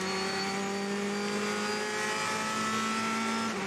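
Race cars at the 24 Hours of Le Mans, a Porsche among them, roar past at speed; a loud, sustained engine note holds steady and then drops in pitch near the end as they go by.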